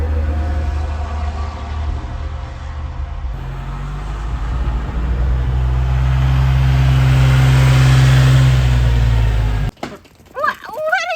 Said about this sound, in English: Traffic continues to go by, and basically you just have to kind of hope that people are paying attention.